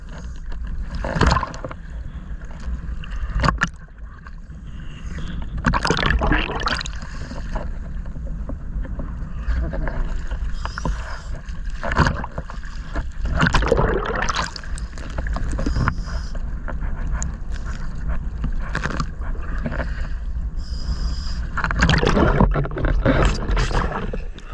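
A boat approaching a swimmer in rough water off Guernsey's east coast, heard with ears under the surface as a continuous muffled rumble and roar that swells in bursts, with no voices.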